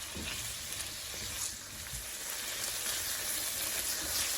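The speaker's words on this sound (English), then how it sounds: "you wanna saute this for about a good minute and a half" Fresh seasoning sautés in a hot pan for a jerk salmon and rasta pasta dish, giving a steady, fairly loud sizzle that runs unbroken throughout with no talking.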